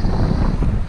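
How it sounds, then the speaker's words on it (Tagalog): Strong wind blowing across a sandbar during a kayak fishing outing, a loud, steady roar buffeting the microphone with low rumbling gusts and no voices. "Kasi medyo malakas yung hangin, ha."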